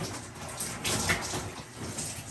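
Warm water runs through natural hair during a wash day, a steady close splashing and trickling rush with no talking.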